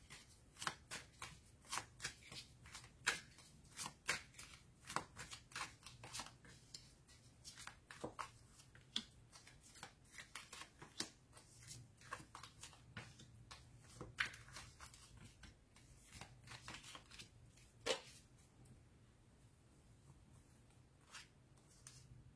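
Tarot cards shuffled by hand during a reading, a long run of crisp, close riffling and sliding snaps in irregular bursts over about twenty seconds, fairly quiet with no talking.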